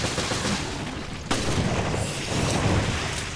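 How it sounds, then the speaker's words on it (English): In the video game Resident Evil: Revelations Raid Mode, a sharp blast hits partway through over a dense, roaring wash of battle noise. Rumbling continues after the blast. "There's a big explodey"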